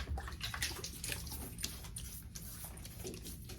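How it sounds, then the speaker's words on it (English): Water splashing onto a face at a sink before a wet shave, soft repeated splashes and dripping close by, fairly quiet and without talk. "Wet the face a little bit."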